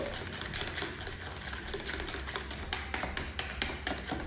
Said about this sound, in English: I'm going to whisk it all together if I can, which I can.